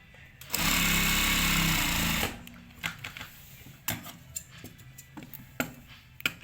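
A sewing machine runs in one loud, steady burst of just under two seconds, stitching a seam at a shirt neckline, then falls to scattered light ticks and clicks.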